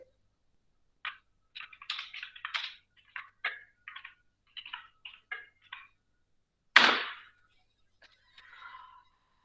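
Keys on a computer keyboard clack in short irregular bursts, quiet and close with gaps between words, followed by one sharper louder click and a few more soft taps, with no talking.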